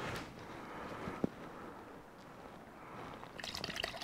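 Paint pours from a can in a garage during a first-time paint job, a faint continuous liquid trickle with a brief knock partway through and a burst of higher spattering near the end.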